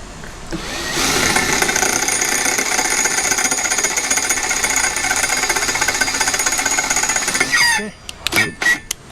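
A sharper, slightly larger bit drills into metal with a loud, steady hammering grind lasting about seven seconds, then stops abruptly, leaving a few brief knocks and clatters.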